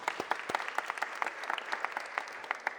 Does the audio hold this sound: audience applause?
yes